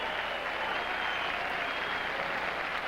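A tennis crowd claps steadily after a point, a dense and even roar of applause that holds for the whole stretch with no break.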